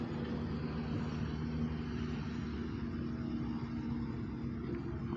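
A small airplane flies overhead with a steady, low engine drone that holds evenly at moderate loudness throughout.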